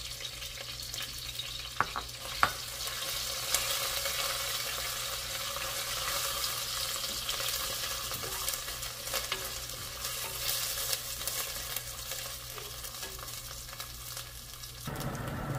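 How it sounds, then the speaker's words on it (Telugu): Ginger, garlic and green chilli paste frying and being stirred in a pan for beetroot biryani, a steady close sizzle with scraping strokes running throughout, a couple of sharp clinks early on, no voices. "మంచిగా పచ్చి వాసన పోయేంత వరకు ఫ్రై చేయాలి."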